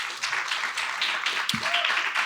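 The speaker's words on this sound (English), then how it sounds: "that's worth a round of applause" Audience applause at a health and housing summit, steady dense clapping from a room full of people filling the whole moment, with a brief voice cutting in near the middle.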